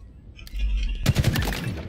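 Rapid gunfire in Halo Infinite, a burst of close automatic shots rattling out after a brief low rumble, loud and dense for about a second.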